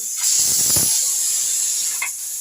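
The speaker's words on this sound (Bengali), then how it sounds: "রান্নাঘরে প্রেশার কুকার সিটি মারছে" A pressure cooker in a kitchen releases a loud hissing jet of steam that swells briefly and then settles into a sustained high hiss, close and alone.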